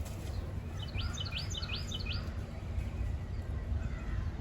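Small birds chirp outdoors on a fine day, a quick cluster of faint high tweets over a steady hum of background noise, with no talking.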